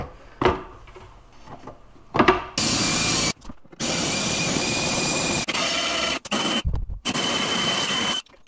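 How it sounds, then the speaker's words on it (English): A jigsaw cuts slowly up through the underside of a cabinet bottom for a bolt hole during an over-the-range microwave install, running in loud sustained bursts with brief stops between, after quieter handling noises at the start. "I want to get my jigsaw blade in there"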